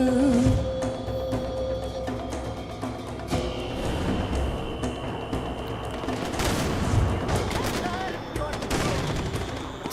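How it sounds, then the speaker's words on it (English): Rattling bursts of automatic gunfire and shotgun blasts in Far Cry 4, dense crackling volleys trading back and forth for several seconds, some close and heavy, others more distant. "Just everybody's just shooting at each other."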